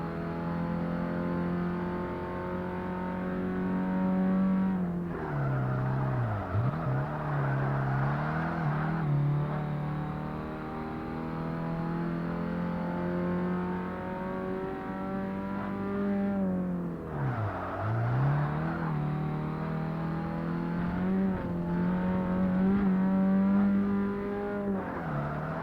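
A race car engine at full throttle in Forza Motorsport 1 holds a steady high drone, rising in pitch through the gears, with short dips and rises on lifts and shifts. It sounds close and continuous, with no voice.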